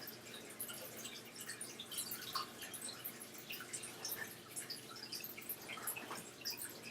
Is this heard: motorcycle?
no